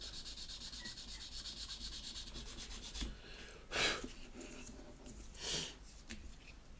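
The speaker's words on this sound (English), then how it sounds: "So I'll just sand that Mr. Surfacer down." Mr. Surfacer primer sanded by hand on a 1/200 Trumpeter Bismarck model ship, a soft, close rasping rub with a couple of louder strokes, quiet and without talk.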